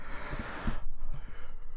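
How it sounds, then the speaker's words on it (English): A single person yawns close by, a long breathy exhale that trails off into quiet breathing, with no words spoken. "Sorry, guys, yawning."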